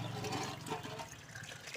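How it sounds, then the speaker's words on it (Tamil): Water pours into an aquarium tank with a steady gushing, splashing rush that stays fairly constant and close, gradually easing slightly toward the end. "கொஞ்சோண்டு தண்ணி ஊற்றுறேன்."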